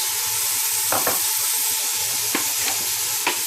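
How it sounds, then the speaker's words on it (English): Green peas, potatoes and carrot sauté in a hot pan, a steady close sizzle broken by a few sharp scraping stirs of the spatula, no talking. "potatoes and carrot. Just saute them a bit."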